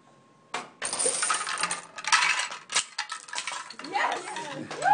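Marbles clatter and rattle into a bucket in a school Rube Goldberg machine, a loud burst of hard metallic clinks and jangles lasting several seconds, followed by voices exclaiming.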